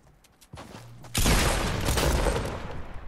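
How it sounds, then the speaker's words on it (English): Sustained burst of gunfire in Fortnite Battle Royale at Dusty Divot, a dense rapid fusillade that starts abruptly after a few quiet seconds and stays loud to the end. "Oh, they're getting shot at."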